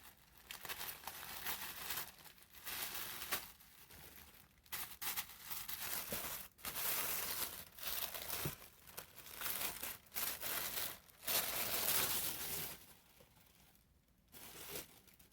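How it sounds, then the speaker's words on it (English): Product packaging from a fall subscription box being ripped open carelessly, with close crinkling, crumpling and tearing sounds in irregular bursts over about fifteen seconds, with no talking. "I'll just go ahead and rip into it and not be careful about how the packaging looks"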